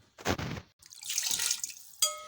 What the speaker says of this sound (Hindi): मैं अब इसमें पानी डाल के इसको कुकर को बंद करके पकने के लिए रखती हूँ